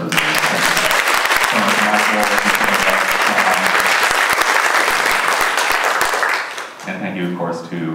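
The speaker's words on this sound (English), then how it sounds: "could we have a round of applause for our presenters?" Loud, sustained applause from a crowd at a university campus leadership forum greets the panel presenters, filling about six seconds before thinning into a few voices talking.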